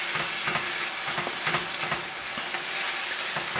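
Calico beans and sauce cooking in a pot over good heat on a stove: a steady bubbling sizzle with intermittent scraping stirs, moderately close and fairly quiet, with no voices.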